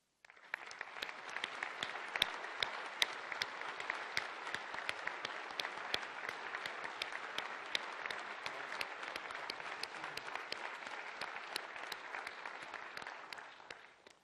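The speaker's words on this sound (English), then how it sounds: "join me in a round of applause" An audience at an Ottawa city council meeting applauds steadily for about fourteen seconds, a dense even clapping from a roomful of people that starts abruptly and tapers off at the end.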